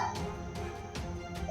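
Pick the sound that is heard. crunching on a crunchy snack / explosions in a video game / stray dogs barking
stray dogs barking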